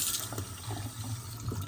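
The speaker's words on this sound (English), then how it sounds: "I can't believe you buy a sink and the sink is open like this and the water is dropping out" Water trickles and drips from an open, unsealed new kitchen sink, a soft, steady liquid splatter with small irregular drops over a low hum.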